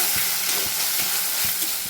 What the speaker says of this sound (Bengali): এখন আবার 1-2 মিনিট আমি শুটকি মাছগুলোকে এই মশলাটার সাথে ভাজা ভাজা করে নেব